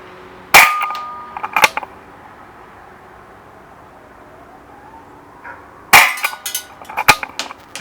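Two sharp shots from an ASG Dan Wesson CO2 BB revolver, one near 0.5 s and a louder one near 6 s, each followed by brief clatter and rattling handling noise, with quiet room tone between and no talk.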